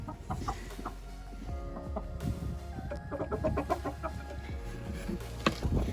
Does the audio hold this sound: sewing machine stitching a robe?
no